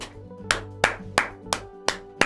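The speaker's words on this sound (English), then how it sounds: "Round of applause." Six sharp, evenly spaced claps ring out one after another, like a short, sarcastic round of applause in a quiet room.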